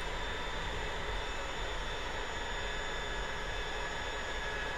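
Steady jet engine roar of an L-39 Albatros trainer in DCS World, a continuous broadband whine and rumble holding level and fairly loud throughout with no distinct changes.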